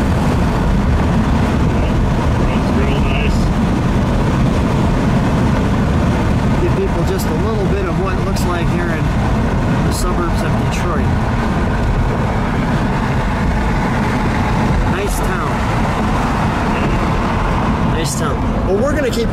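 A 1965 AMC Rambler Marlin's engine hums smoothly and steadily under continuous road noise while driving, with people talking over it throughout.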